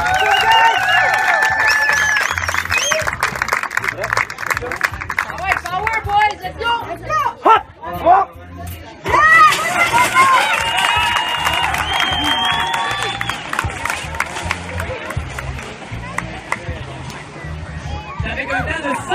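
A crowd at a push track cheers and claps for the racers, a sustained loud roar of voices and applause with an announcer talking over it, dipping briefly midway before swelling again.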